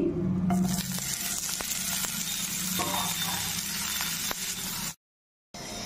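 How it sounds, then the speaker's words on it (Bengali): Potatoes frying in a little oil in a pan for a Bengali fish curry, a loud, continuous sizzle with occasional clinks and stirring taps, cutting off abruptly near the end before resuming. "এখন আমি আলু ভেজে নিচ্ছি।"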